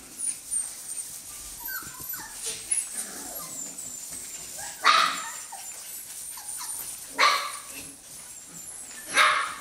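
Norwegian Elkhound puppies bark and yip in scattered sharp bursts, with some whimpering between, fairly close, while a person speaks quietly among them.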